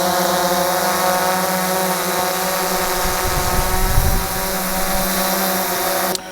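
DJI Phantom drone motors spinning up and lifting off, a dense high-pitched propeller whine that stays loud and steady throughout, with a low rumbling swell partway through and no speech.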